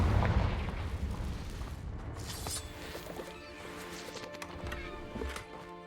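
A Confringo blasting spell explodes in a video game with a heavy, loud boom at the start. The boom rumbles and fades into crackling debris and ambient game noise.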